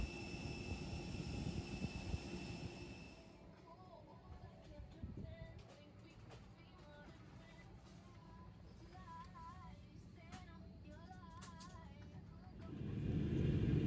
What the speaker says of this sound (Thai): เครื่องบินบินขึ้นจากสนามบินดอนเมืองมาแล้วนะครับ